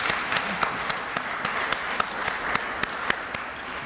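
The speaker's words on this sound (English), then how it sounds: "let's have a round of applause for our current Manoukian professor" Applause from an academic lecture audience honoring a Manoukian professor, steady and fairly faint, with sharp individual claps standing out over a dense wash of hands for about four seconds.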